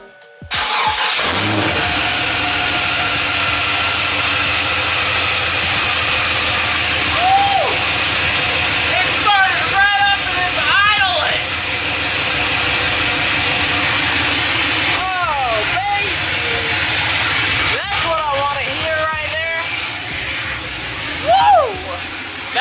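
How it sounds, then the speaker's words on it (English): A V8 engine in a Mustang with an LS swap and long-tube headers cranks and catches, then idles steadily with a couple of brief rev-ups settling back down, close by, with occasional squeaky sounds. "See how it idled up and now it's idling back down."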